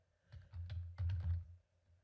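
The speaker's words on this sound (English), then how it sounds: "Type in our command, Helm" Keys clattering on a computer keyboard as a command is typed, two quick bursts of close, crisp clicks with a short pause between, no voices.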